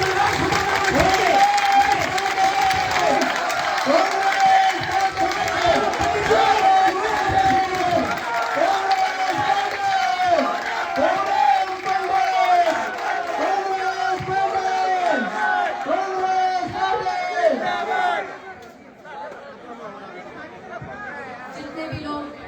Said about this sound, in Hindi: तालियों की गड़गड़ाहट खतरनाक होगी।